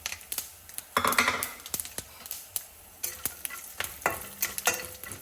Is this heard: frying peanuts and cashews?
yes